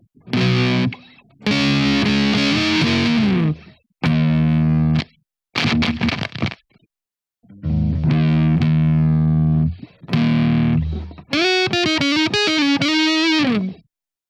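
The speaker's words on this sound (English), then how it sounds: "Just gonna do a more dry tone like that without any delay or reverb." Dry electric guitar with no delay or reverb, playing a series of loud distorted phrases and sustained notes separated by short silences, ending on bent, wavering high notes.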